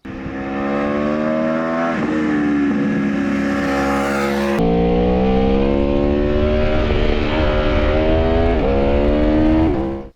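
An Aprilia Tuono V4 1100 Factory motorcycle engine pulls hard through the gears, a loud, close, continuous rising roar with a brief drop at each shift before climbing again.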